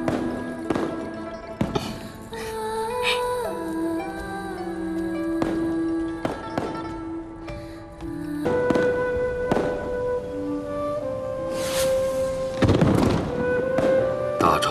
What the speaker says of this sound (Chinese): 陪朕出去看烟花。